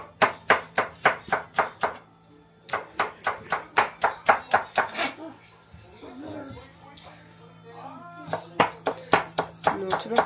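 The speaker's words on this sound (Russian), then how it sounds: "Поэтому мелко-мелко вручную нарезает." Rapid, regular knife chops on a cutting board finely chopping daikon radish by hand in steady bursts, pausing briefly, with a voice talking softly in the middle stretch.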